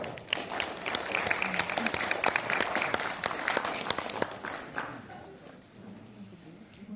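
A conference audience at a legal lecture on money laundering claps steadily for about five seconds, a dense and fairly loud applause that thins toward the end, with a voice speaking over it.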